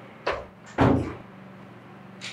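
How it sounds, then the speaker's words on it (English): A door shuts indoors with two quick knocks, the second heavier and louder, followed by quiet room tone and a faint later click. "Timo, close the door."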